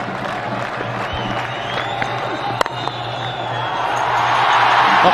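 A cricket crowd at a Pakistan versus India match cheers and roars, a dense wall of crowd noise swelling louder toward the end, with a commentator speaking over it.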